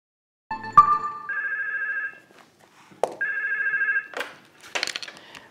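A telephone at a helpline in Zeeland rings in two separate electronic trilling bursts, each about a second long, loud and close with quiet gaps, followed by brief clattering handling sounds.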